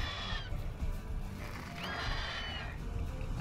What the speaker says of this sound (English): I can hear the horse.